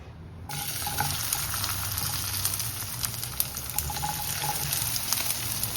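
Okra frying in hot oil in a kadai, a steady broadband sizzle with faint crackles and small pops running throughout, close and continuous with no voices.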